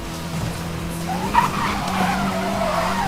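In the racing video game Need for Speed Most Wanted 2012, tires squeal in a sustained skid as the car's rear slides out, over a steady engine tone, close and loud.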